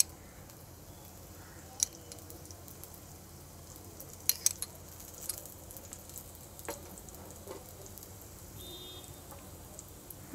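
Potato roti frying in oil on a pan over a medium flame, giving a steady soft sizzle throughout with a few faint clinks and scrapes.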